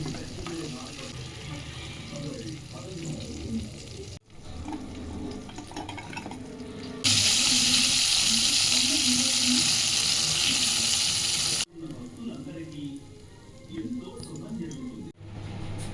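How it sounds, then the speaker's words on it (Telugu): Marinated KFC-style chicken deep fries in hot oil on a low flame with a broad, hissing sizzle that swells loudly in the middle stretch, broken by abrupt cuts, while a voice talks over parts of it. "ఇప్పుడు ఆయిల్లో డీప్ ఫ్రై చేసుకోవాలి."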